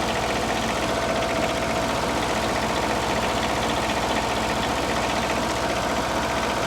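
Kohler KDW diesel engine on a generator running steadily at 1800 RPM, a close, loud, even idle-like drone with a low rhythmic throb and no talk.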